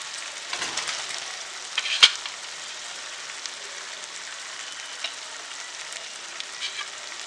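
Fish pieces sizzle and crackle in a hot pan for biryani, a steady frying hiss with scattered pops and one sharp spit, fairly close and without talk.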